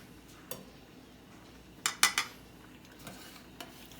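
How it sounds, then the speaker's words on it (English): Pasta stirred in a pan of boiling water: a few sharp metallic clinks and scrapes of a utensil against the pan, a quick cluster in the middle, and scattered taps before and after over a quiet background. "I like to keep my pasta moving."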